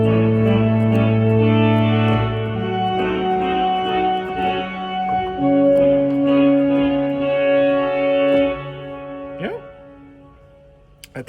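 Pipe organ played with its manuals uncoupled: sustained, overlapping reverberant chords with clearly separated lines and shifting held notes, ending in a brief falling slide as the sound dies away.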